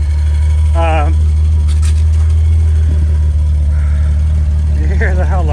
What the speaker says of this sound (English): You hear how loud the exhaust is